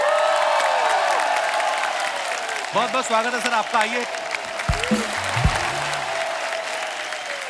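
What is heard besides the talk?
studio audience applause for guests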